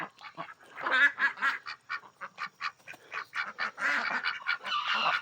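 Ducks in the duck section of a chicken farm in Bethel, Connecticut, quack and honk loudly and close by in a rapid, steady string of calls, several birds overlapping throughout.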